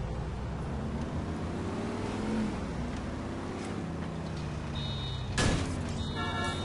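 Heavy garbage truck engine in GTA IV, a low steady rumble with a rising rev partway through and a sharp loud clatter near the end, plus faint background city noise.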